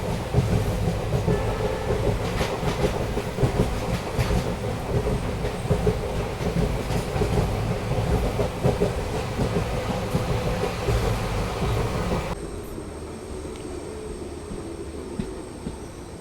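The Talguppa to Shivamogga passenger train runs along in a loud, continuous rumble of wheels and carriages with clattering rail noise, dropping to a quieter steady hum for the last few seconds.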